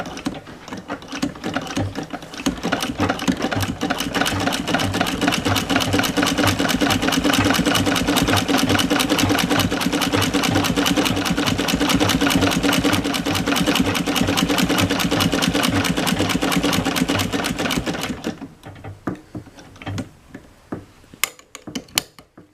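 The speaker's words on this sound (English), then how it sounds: "I'm basically going to go around the sides and the bottom of this, and it will become a bag." A sewing machine runs steadily for about eighteen seconds, stitching around the sides and bottom of a fabric bag for silver storage at a stitch length of about 4, with a fast mechanical clatter that stops abruptly, leaving faint clicks.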